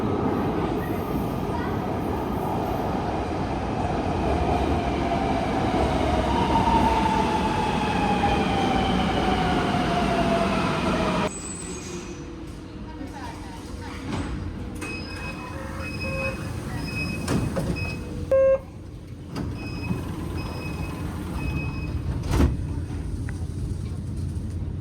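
A Nanjing metro subway train in China running underground, loud rumbling and rising wheel whine for about ten seconds, then cutting to a quieter interior hum with faint clicks and brief tones.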